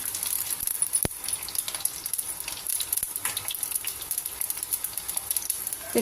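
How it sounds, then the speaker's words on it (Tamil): Garlic sautéing in hot oil gives a steady, close crackling sizzle with a few sharp clicks along the way and no talking. "கொஞ்சம் பூண்டு வதங்கட்டும்."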